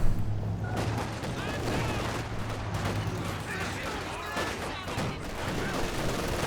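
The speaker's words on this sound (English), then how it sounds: "Flamethrower though in range of this machine gun inside the building." Machine gun fire in the game Company of Heroes 2, with rapid bursts and scattered shots crackling over a low rumbling battle bed, mid-distance, under a commentator's continuous talk.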